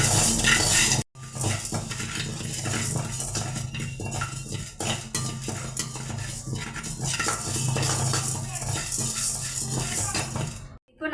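Cumin and black pepper, about 50 grams each, are dry roasted in a pan, with near, steady scraping, stirring and rattling of the spices and metal utensil against the pan, broken by a couple of brief pauses.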